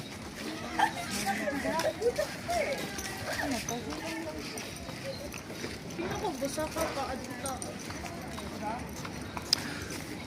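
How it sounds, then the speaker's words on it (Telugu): Two white horses clip-clopping along a path near a rose garden in Sapa, the hoofbeats steady and moderately close under continuous talk and outdoor crowd noise. "మన ముందైతే 2 వైట్ గుర్రాలు ఉన్నాయి."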